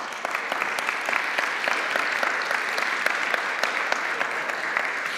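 Audience applause at a security conference in Norway, a steady dense burst of many hands clapping throughout, fairly loud and even.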